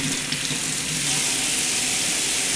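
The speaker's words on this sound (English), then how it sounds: "we're just going to give it a quick rinse in the sink today." Running water from a sink tap rinsing a Riedel Eve wine decanter, a loud, steady splashing hiss that does not let up.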